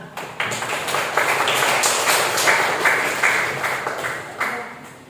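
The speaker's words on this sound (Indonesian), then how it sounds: "Tepuk tangan" A classroom of students claps together in a brisk, steady burst of applause, close and lively, fading slightly toward the end.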